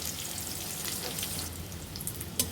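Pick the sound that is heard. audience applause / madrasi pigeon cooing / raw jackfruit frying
raw jackfruit frying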